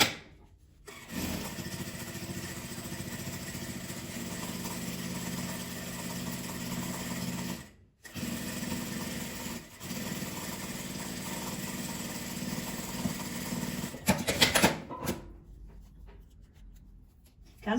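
Sewing machine topstitching around a fabric apple, a steady continuous whirring run that stops briefly twice and resumes, then falls quiet near the end.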